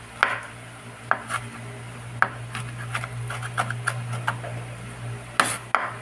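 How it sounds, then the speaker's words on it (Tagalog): A knife slices through tomatoes on a cutting board in a home kitchen, giving sharp, irregular taps about once a second over a steady low hum. "Slice tayo ng kamatis."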